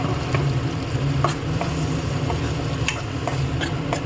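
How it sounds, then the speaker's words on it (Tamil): Tomato paste from two ground tomatoes stirred and frying in a pan, a steady close sizzle with soft scraping strokes of a spoon and occasional light clicks throughout. "இதை போட்டு நல்லா கொஞ்சம் கிளறும். அரைச்சி வச்ச தக்காளியை ஊற்றியாச்சு."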